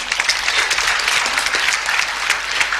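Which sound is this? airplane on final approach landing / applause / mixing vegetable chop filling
applause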